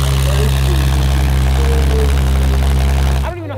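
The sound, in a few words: Porsche 911 GT3 RS engine and exhaust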